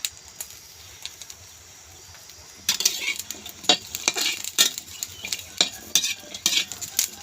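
Chilies, shallots and garlic are dry-roasted in a pan: a quiet opening, then busy stirring with sharp scraping clicks and rustles of the ingredients shifting against the metal, close and unaccompanied by speech.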